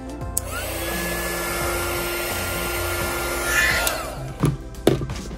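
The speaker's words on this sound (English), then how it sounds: "Maybe we'll just try to smooth it down a little more before we use the heat gun" A heat gun blows a steady, loud airy whoosh onto a Nintendo Switch Pro Controller skin, with a few handling knocks near the end.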